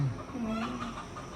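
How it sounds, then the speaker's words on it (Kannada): A rooster's drawn-out crow rings out against steady outdoor background noise, fairly close and clear, with no talking. "ಇವತ್ತು ಕೋಳಿ ಕೂಗೋ ಶಬ್ದ ಕೇಳಿಸ್ತಿದೆ."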